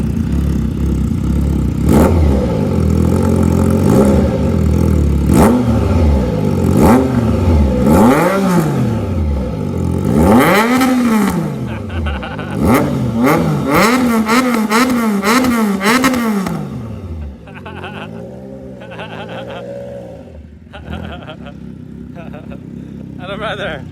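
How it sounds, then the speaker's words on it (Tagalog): A Triumph Trident 660 motorcycle fitted with a full aftermarket exhaust system is revved in repeated loud, rising-and-falling blips close by, ending with a quieter settling idle, with voices talking over it. "i-rev mo na ng konti. Pakinggan na natin yung rev niya."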